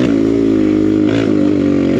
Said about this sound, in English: We need to put the new piston and cylinder through its first warm up and cool down session.